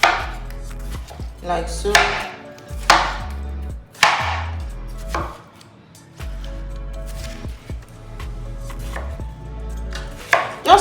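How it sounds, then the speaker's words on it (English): A knife chopping ingredients into small pieces on a cutting board in a home kitchen, a series of close, sharp chops with irregular pauses, and a brief spoken remark amid the cuts. "So I'm just going to go ahead and cut it down."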